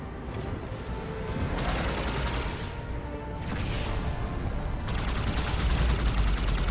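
Sustained gunfire from Halo 2 aimed at a rock, dense rapid bursts that stay loud and continuous for several seconds over a busy battle backdrop.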